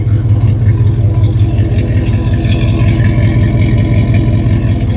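A Chevy Silverado's 5.3 V8 with long-tube headers idles close up, a loud, deep, steady rumble with a rhythmic lope throughout.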